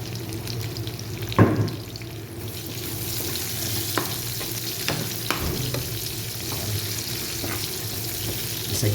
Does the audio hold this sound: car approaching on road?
no